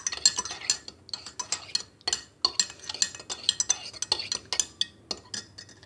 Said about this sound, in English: And just stir it one more time.